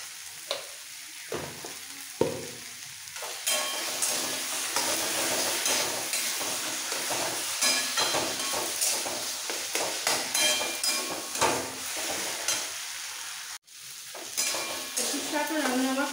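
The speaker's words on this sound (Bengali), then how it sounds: "এভাবে ভালো করে কষিয়ে নিতে হবে।" Leafy greens with a pinch of sugar being stir-fried in a pan, a continuous close sizzle broken by repeated scraping and tapping of a spatula against the metal, moderately loud throughout with no talking.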